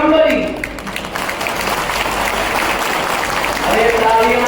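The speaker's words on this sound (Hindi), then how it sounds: "तालियां थोड़ी कम बनी।" Audience applause at a speech at the opening of a compressed bio-gas plant in Gwalior, with steady, dense clapping that holds loudly throughout and swells slightly at the end.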